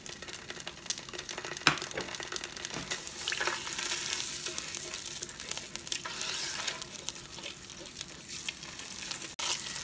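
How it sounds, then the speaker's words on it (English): Tomato paste fries in a pot with a steady, close sizzle, soft crackles and a few stirring scrapes, quiet and without talk. "I put the tomato paste in here, and I'm just gonna let this cook"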